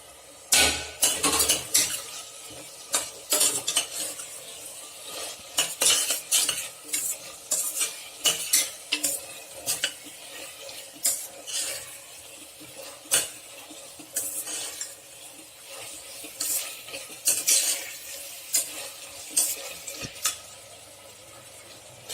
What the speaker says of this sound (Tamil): நம்ம புதினாவையும் இது கூட சேர்த்து வதக்கிடலாம்